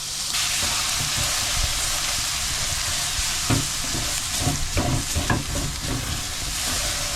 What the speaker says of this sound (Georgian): ამ ცხიმზე წყერის ბუნებრივ ცხიმზე მოვთუშოთ შქმერულისთვის ნიორი დაბალ ცეცხლზე